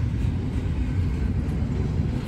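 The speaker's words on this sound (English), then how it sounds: "This train runs from Jacksonville, Florida up to North Baltimore, Ohio." A freight train runs on the line from Jacksonville, Florida to North Baltimore, Ohio, its steady low rumble and rolling rail noise loud and continuous throughout, with no talk.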